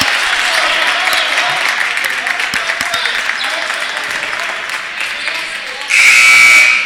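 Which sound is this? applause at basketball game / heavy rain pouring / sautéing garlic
applause at basketball game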